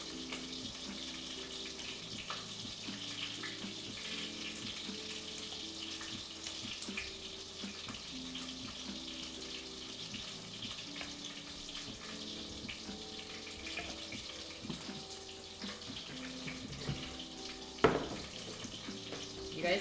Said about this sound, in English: You guys hear those sizzles?